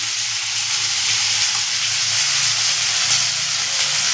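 Ginger paste hits a hot pan already frying prawns and bottle gourd, setting off a loud, continuous, steady sizzle and hiss that stays close and even throughout.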